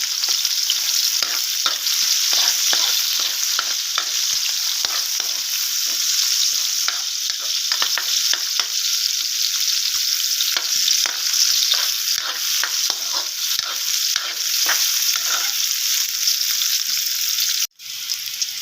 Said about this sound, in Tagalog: Then pour in the onion.